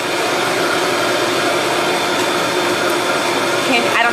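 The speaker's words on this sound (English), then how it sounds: "I'm gonna let you watch the blending occur." A loud, steady motor roar with a whirring hiss, constant throughout, from a blender running at full speed close by while making almond milk.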